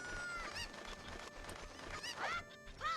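Chickens (cuccos) in the video game The Legend of Zelda: Ocarina of Time give several squawking, clucking calls over busy game sound, with two sharp rising squawks near the end.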